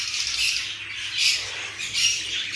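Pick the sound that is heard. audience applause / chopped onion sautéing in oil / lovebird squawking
lovebird squawking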